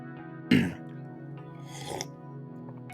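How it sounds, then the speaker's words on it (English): A single short, throaty cough, close and fairly loud, followed by a softer throat-clearing sound a moment later in an otherwise quiet room. "let me take a quick little cough and a sip of tea here"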